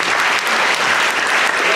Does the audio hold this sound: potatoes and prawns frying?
no